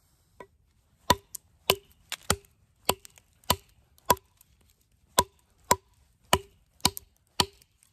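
A Toor Field 1 knife chops repeatedly into a piece of cedar wood, each blow a sharp, close, dry crack in an irregular rhythm, about a dozen strikes with quiet gaps between them and no talking.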